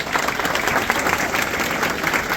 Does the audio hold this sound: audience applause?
yes